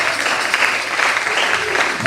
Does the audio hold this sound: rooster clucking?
no